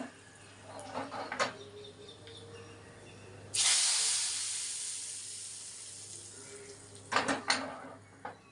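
Hot cooking oil in a pan bursts into a loud, sudden hiss that slowly fades over several seconds, framed by a few clattering knocks before and after; nearby and unaccompanied by speech.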